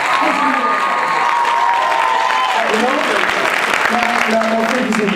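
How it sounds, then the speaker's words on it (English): A studio audience applauds and cheers loudly and continuously, with voices shouting and talking over the dense clapping. "Give him a round of applause yourself."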